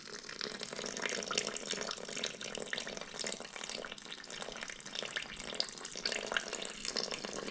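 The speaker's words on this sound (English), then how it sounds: "so I'm going to add 300 grams of water. And this is warm water, by the way, about 90 degrees." Warm water, about 90 degrees, being poured into a bowl for same-day New York pizza dough, a steady broad splashing stream running close and continuous throughout with no talk.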